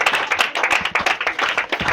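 A church congregation claps in praise of the Lord, a fast, steady run of close, sharp hand claps that keeps an even rhythm throughout.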